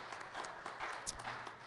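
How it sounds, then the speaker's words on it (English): Short burst of hand clapping from a church congregation giving praise, a dense, fairly steady patter of many hands with a faint voice or two mixed in. "Let's give the Lord a hand clap of praise."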